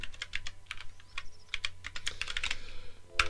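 Quick, uneven clicks from a computer keyboard being typed on up close, in bursts with brief pauses and a sharper final tap, during a coding session. No voices.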